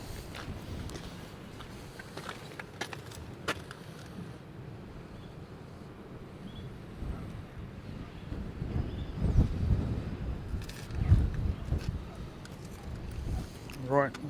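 Strong seaside wind during Storm Isha at Gorleston beach and pier, a low buffeting rumble against the microphone that swells in gusts, with scattered footsteps and clicks.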